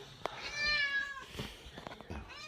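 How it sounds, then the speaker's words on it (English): A pet cat meows loudly and close, a long drawn-out wail followed by a couple of shorter calls, with faint room noise and light clatter around it. "Kayla, my cat is being loud."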